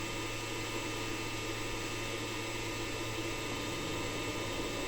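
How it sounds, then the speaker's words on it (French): Steady broadband noise from the chamber fan of an Elegoo Centauri Carbon 2 3D printer hisses and hums at a constant level, fairly quiet and unchanging throughout. "Et le ventilateur du caisson."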